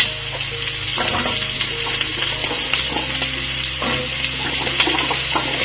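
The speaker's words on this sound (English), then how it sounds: "And then I will add in my potatoes and my carrots." Potatoes and carrots sizzle loudly in a hot pan, a continuous crackling fry with light scraping and stirring noises throughout.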